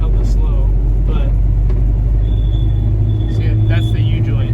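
A lowered mini truck creeps slowly through a school zone, its U-joint giving a thin, wavering squeak over a steady, heavy in-cab drivetrain rumble and vibration.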